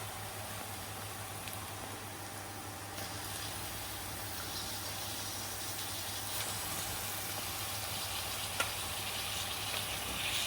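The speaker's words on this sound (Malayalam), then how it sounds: "ഇനി ഞങ്ങൾ ഇതിലേക്ക് ചിക്കൻ ഇട്ടേക്കാം." Chicken pieces frying in a pan of ghee roast masala give a steady, even sizzle and hiss that runs throughout, moderately close, with no talking.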